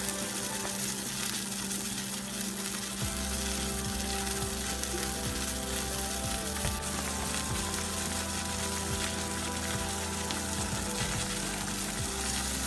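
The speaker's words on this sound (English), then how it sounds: "Now, broccoli is cooking and sizzling." Broccoli sizzles steadily in a hot pan, a dense crackling hiss that stays loud and even throughout, with occasional soft clinks of stirring.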